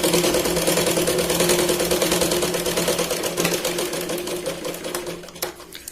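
A domestic sewing machine runs steadily, stitching a double seam on a Katori blouse, its fast even needle rhythm continuing for several seconds before slowing near the end, close and loud with no talking.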